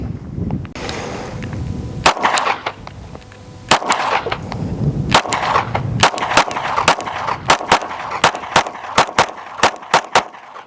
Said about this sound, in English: So I'm going to shoot it first